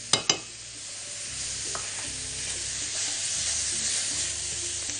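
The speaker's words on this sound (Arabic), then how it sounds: "ونشوح يا باشا عندي الثوم" Minced garlic sizzles in a hot pan with onions and tomato sauce, two sharp clanks of a utensil at the start, then a steady close frying hiss with soft stirring.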